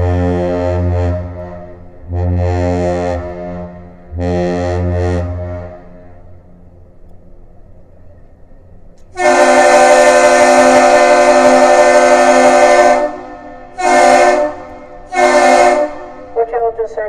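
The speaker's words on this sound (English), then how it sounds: "The ship initiates the greeting with one long blast followed by 2 short blasts, and the bridge responds with the same thing." A Great Lakes freighter, the MV John G. Munson entering Duluth, exchanges the captain's salute of one long and two short blasts. Deep low horn blasts sound first, then a brighter, louder long blast and two short ones answer.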